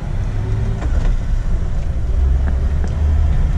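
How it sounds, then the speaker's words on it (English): A lifted, modified 2003 Jeep Wrangler with 103k miles idling steadily, a loud, close, low engine rumble running continuously with no talk over it. "Engine starts right up with no problems."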